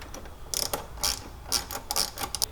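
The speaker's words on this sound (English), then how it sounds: "just go ahead and tighten it down with a 10mm socket" A ratchet with a 10mm socket clicks in short bursts while tightening a hose clamp on a rubber elbow at the intercooler end of a charge pipe on an E9x BMW; close, crisp pawl clicks come in several quick strokes.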